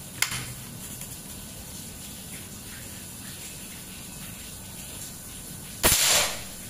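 One PCP air rifle discharge from an AK Lipat Army charged at 4000 PSI, a crisp, loud snap with a short airy hiss, standing alone after quiet seconds, with a faint softer click at the start.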